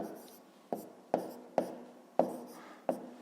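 Hand writing numbers with a pen on paper during a fifth-grade maths exercise: a run of short, sharp tapping strokes spaced roughly half a second apart, close and fairly quiet against a faint background hum.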